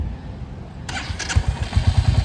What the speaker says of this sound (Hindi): हाँ, तो बाइक को स्टार्ट करो